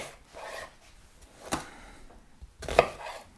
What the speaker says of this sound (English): Now, when you're cutting onions